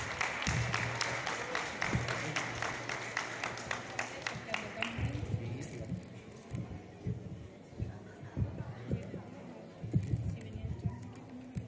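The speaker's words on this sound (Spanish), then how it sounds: "Así que un aplauso para ella" Applause from an audience at a school graduation ceremony for eighth-grade students, a burst of clapping in the first half that fades out, followed by quieter room sound and a voice speaking.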